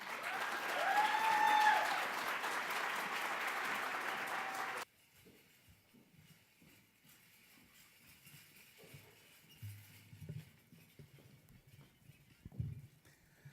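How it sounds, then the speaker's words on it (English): Applause from an audience at a Chicago History event honoring dancers of the Choctaw tribe, a dense burst of clapping for about five seconds that stops abruptly, leaving low room noise and faint shuffling. "Please give them a round of applause."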